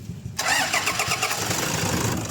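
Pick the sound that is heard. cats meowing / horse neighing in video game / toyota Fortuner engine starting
toyota Fortuner engine starting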